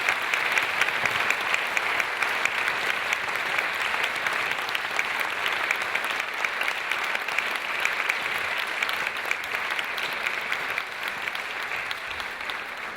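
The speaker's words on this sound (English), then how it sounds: "can you please give a round of applause for our panelists tonight?" Steady, sustained applause from an evening audience honoring climate event panelists, a dense even wash of clapping that holds loud throughout with no talk over it.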